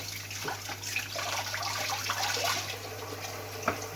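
Cut tuna washed under running tap water, a steady close splashing stream filling the clip, with a faint low hum underneath and no talk.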